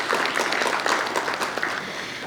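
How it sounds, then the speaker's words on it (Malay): Attendees at a round-table industry advisory council meeting clap together, a moderately loud patter of many hands that continues steadily and fades slightly toward the end. "Mari kita bagi tepukan."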